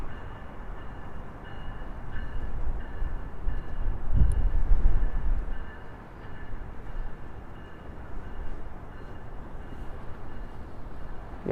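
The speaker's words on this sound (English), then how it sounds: "We're gonna wait for this GO train to roll by here." A GO commuter train rolls past along the West Toronto Railpath on a windy day, a continuous low rumble that swells near the middle and then eases back into steady track noise, with wind buffeting the microphone.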